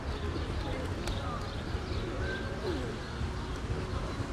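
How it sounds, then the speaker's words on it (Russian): Pigeons being fed in a city park in Odesa coo softly under a steady wash of outdoor background noise, with occasional faint chirps and a few light clicks scattered through. "Все подкармливают здесь голубей, поэтому посмотрите, какое их большое количество."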